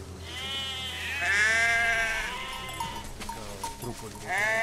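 A sheep in Valiant Hearts: The Great War bleats in a long, wavering cry, then several shorter bleats follow close by, with a light game backdrop behind them.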